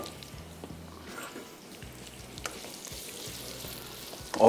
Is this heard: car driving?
no